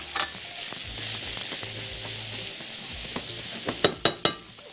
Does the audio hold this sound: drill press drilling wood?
no